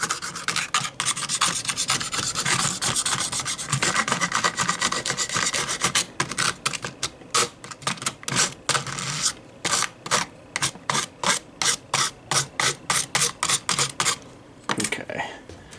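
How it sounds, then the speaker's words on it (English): A tool scrapes back and forth across the wood deck of a model ExactRail bulkhead flatcar. The scraping starts as a dense continuous rasp, then breaks into quick, evenly spaced strokes before it stops. "Scraping this across."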